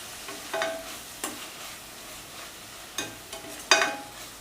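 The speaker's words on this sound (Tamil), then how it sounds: "இப்போ இந்த மசாலா அதில் காரத்தை இதுலேயும் வதக்கி விட்டுக்கலாம் ஒரு தடவை." Spice masala for semiya biryani sizzles while being sautéed. A steady low fry runs underneath as a spoon scrapes and stirs the pan in irregular, close strokes.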